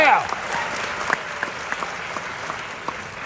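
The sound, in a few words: theatre audience applause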